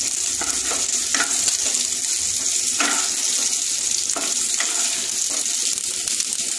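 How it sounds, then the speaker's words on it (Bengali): Pieces of raw green mango frying in a pan for a sour dal: a steady, loud sizzle runs throughout, with repeated scraping stirs about once a second, close by and with no talk. "আমটা একটু ভেজে নিই, তারপর জল দিয়ে দেবো।"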